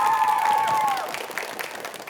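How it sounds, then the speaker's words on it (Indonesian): Audience applause for Team A in a televised quiz competition studio, brief and fairly faint clapping that follows a sustained musical tone and fades out within about two seconds. "Sekali lagi tepuk tangan untuk Regu A."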